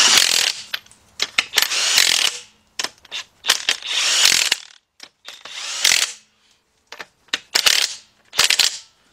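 A pneumatic impact gun tightens axle bolts on a 2007 Nissan Altima 2.5S, firing in loud, rattling bursts of varying length separated by short pauses, close and harsh.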